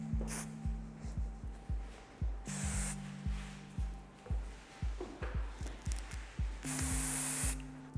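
Hairspray being sprayed onto styled hair in a salon, a rapid series of short hissing spray bursts in quick rhythm, close and fairly quiet, with a hair dryer or diffuser whooshing in at times.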